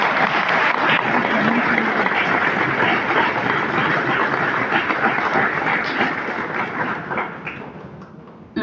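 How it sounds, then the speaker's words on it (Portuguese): Audience applause at a Portuguese parish council installation ceremony: sustained, dense clapping from a large crowd that holds steady for several seconds, then tapers off toward the end. "peço desde já uma salva de palmas para eles"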